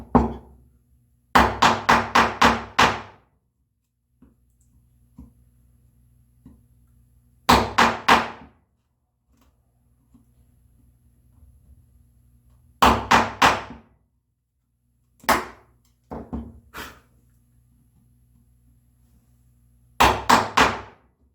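A chisel is struck in quick clusters of three to five sharp knocks while cutting walnut bookcase joinery, close and crisp, separated by quiet pauses with faint scraping.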